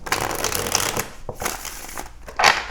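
Tarot cards being shuffled, several decks including a Golden Art Nouveau Tarot and Rider-Waite, a brisk papery riffling that runs nearly continuously at close range and ends in a louder final burst, with no talk.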